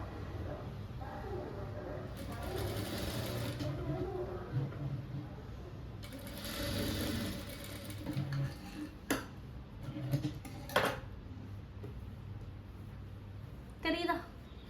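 A sewing machine stitches a blouse sleeve in short runs of rapid ticking, pausing between bursts as the fabric is turned, with someone talking steadily over it.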